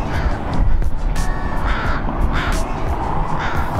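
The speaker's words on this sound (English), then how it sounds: "I'm getting attacked by a freaking crow while I'm trying to do this video." A crow caws repeatedly in a Seattle city area near the Chihuly Garden, loud and close, over busy outdoor background noise.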